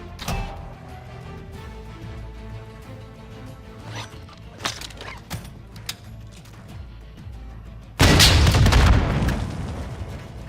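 A bomb-carrying enemy explodes in the Call of Duty DMZ game: a sudden loud broadband blast bursts in after quieter ambient game sounds and scattered clicks, then rumbles and slowly decays.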